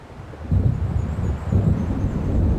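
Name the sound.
thunder of an approaching storm in the video game Alan Wake Remastered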